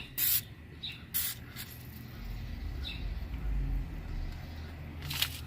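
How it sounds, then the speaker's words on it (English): WD-40 aerosol sprayed in short hissing bursts onto a truck's tie rod end during a steering repair on an Envoy or Trailblazer, several brief close sprays over quiet garage background. "I'm just gonna lubricate it with some WD-40, make it a little easier to come out"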